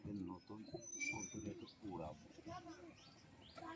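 High-flyer pigeons coo and chirp softly in the background while people talk nearby, their calls faint and partly buried under the voices.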